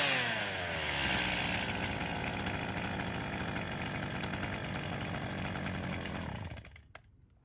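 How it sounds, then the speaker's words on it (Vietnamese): A professional STIHL chainsaw is test-started and runs at a loud, steady buzzing roar for about six seconds, then the engine cuts off and winds down, leaving near silence with one small click. "cả hai chúng em xin phép giật test nổ con này cho các bác nghe qua tiếng máy"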